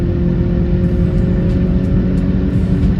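A 2020 Volkswagen Golf GTI pulls hard in third gear, a loud, steady engine drone heard from inside the cabin, with low rumble and road noise and no talking.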